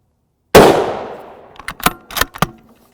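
A single loud, close 7.62x51mm .308 Winchester rifle shot firing a 167-grain JHP round into ballistic gel, with a long decaying boom, followed by several sharp metallic clacks of the bolt being cycled.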